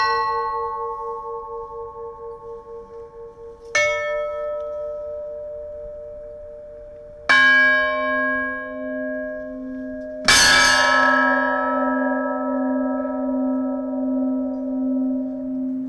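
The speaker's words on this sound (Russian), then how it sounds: "возвестили колокола города Углича об убийстве царевича Дмитрия" The church bells of Uglich toll in four separate strokes a few seconds apart, each deep, resonant clang ringing on and slowly decaying, with no voices.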